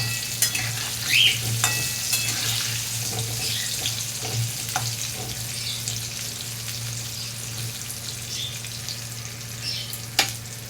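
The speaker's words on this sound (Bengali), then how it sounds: "আলুগুলো ভেজে আমি তুলে নেব" Potato pieces fry steadily in hot oil, a continuous close sizzle with occasional scrapes and clinks of a spoon against the pan, and no talking.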